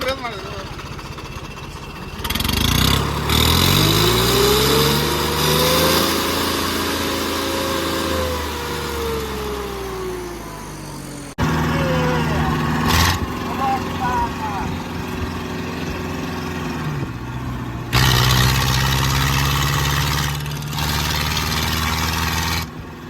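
A tractor engine revs hard at a stone-pulling race, its pitch sweeping up and down in loud, sustained surges that break off and resume, with crowd noise running underneath.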